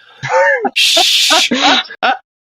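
A harsh, raspy marijuana smoker's cough bursts out loudly between strained vocal sounds, close and abrupt, ending in a short hack.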